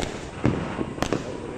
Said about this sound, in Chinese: 来，刚才唱歌那种烟花